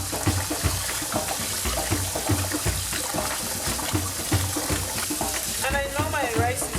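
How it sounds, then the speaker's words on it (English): Rice grains being rubbed and washed by hand in a bowl of water to rinse off the starch for Nigerian jollof rice: steady close swishing and scraping with small splashes, continuous throughout, ending with a brief higher squeaky rubbing. "I'm getting rid of the starch by doing this, rubbing the rice. I'm washing off the starch."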